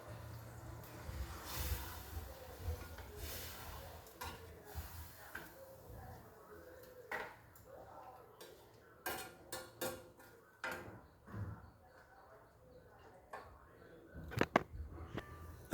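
A spoon scrapes and knocks against a cooking pot while chicken gravy is stirred, giving irregular clinks and scrapes of varying loudness, close by, with low background rumble.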